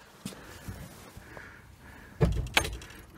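A door is dragged open against ground that has risen after heavy rain, giving a few scraping, grinding pushes with sharp clunks, the loudest burst arriving near the end.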